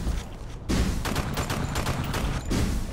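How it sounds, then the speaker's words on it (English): A weapon fires in rapid bursts during a Gunz 2 team deathmatch on the Optimite Refinery map, its close, dense volleys of shots cracking in quick succession throughout. "I should be burst firing this weapon"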